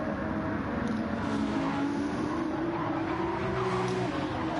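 Race cars, including LMP1 prototypes, run at Spa in a racing video game, a continuous droning engine roar with shifting pitch under faint background noise and no clear talk.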